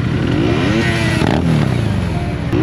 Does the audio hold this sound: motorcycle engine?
yes